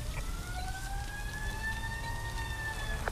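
Fire engine siren in the firefighting game Emergency, a steady wailing tone gliding slowly up and falling back over a low continuous rumble, with a short click at the end and no talking.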